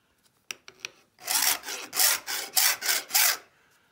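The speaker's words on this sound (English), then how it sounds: "I'll let the curve of the file establish the cut." Hand file rasping wood while shaping a swivel breech rifle kit stock, with a few light taps, then a series of about six steady back-and-forth strokes, close and loud, no talk.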